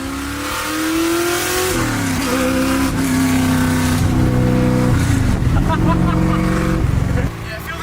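A refurbished carbureted car revs and accelerates while driving, its engine pitch rising and falling loud and close inside the cabin, with people talking over it.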